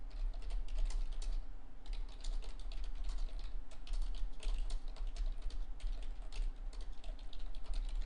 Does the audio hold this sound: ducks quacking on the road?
no